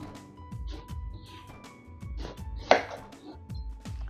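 A knife cuts young violet eggplant on a board in a rhythmic series of soft close chops, roughly two per second, with occasional clinks of kitchenware.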